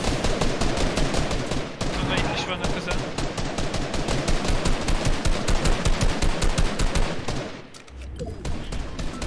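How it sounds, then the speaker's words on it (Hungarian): Rapid machine gun fire in a Fortnite Battle Royale match rattles in long, dense bursts of closely spaced shots, loud and near, with a brief pause. Players talk over it. "ez a gépfegyverrel lövöldöznek."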